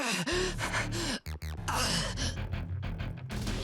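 Heavy, labored gasping breaths from the video game Fate/stay night Remastered, a few sharp, close intakes of air set against loud, dense game music.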